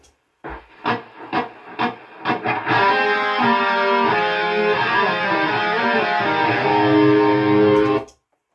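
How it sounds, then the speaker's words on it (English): Two distorted electric guitar lines looped in harmony from a song: a few picked notes, then sustained ringing notes held together for several seconds before cutting off. "I've looped both so you can hear them together."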